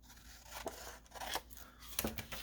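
Scissors cutting paper for a window envelope pocket craft, with three faint, close snips at roughly even intervals over a soft rustle of paper.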